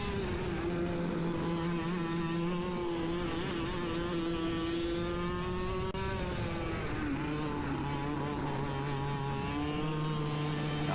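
Kart engine in a racing video game, a steady buzzing drone with pitch rising and dipping as it accelerates along the straight, loud and continuous with no voices.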